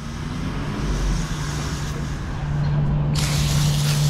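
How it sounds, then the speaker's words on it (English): A garden hose sprays a steady, close rinse of water over an AC condenser coil to wash off applied cleaner and dirt, a continuous hiss under a low motor hum that grows brighter and louder near the end. "When I rinse it, I go down at an angle because you don't want to push the dirt back inside."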